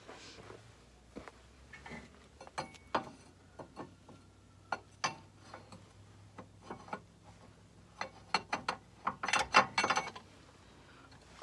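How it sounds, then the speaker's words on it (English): A pickle fork pries the driveshaft axle out of the manual transmission on an R53 Mini Cooper S, giving scattered sharp metallic clicks and knocks, with a quicker cluster of taps near the end, in a quiet garage. "I'm going to put it behind the axle and between the transmission and where the axle goes in, and I'm just going to pry it out."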